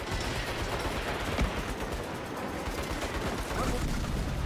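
Video game combat with sustained gunfire and an airstrike: dense, continuous automatic shots and blasts roll together into a thick, noisy barrage at steady loudness, with faint shouted voices mixed in.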